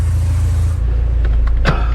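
A 1985.5 Porsche 944 driving, its steady low engine and road rumble filling the cabin, with a brief higher squeak or rattle near the end.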